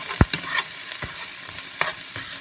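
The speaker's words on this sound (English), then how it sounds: "So now Just want to kind of mix those onions up." Onions being stirred in sizzling olive oil in a frying pan, with a few sharp scraping clicks of the utensil over a steady close hiss.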